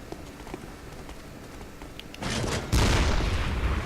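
A cannon fires in the video game Bloodborne. Two heavy, loud blasts burst out one after the other over low background rumble, with no voices.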